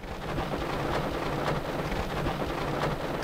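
Heavy rain and a thunderstorm roll in, with a steady dense hiss of rain and low rumbles underneath that continue for about three seconds, and no one speaks.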